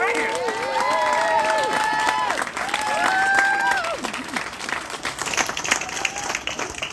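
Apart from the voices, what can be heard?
crowd applauding at a rally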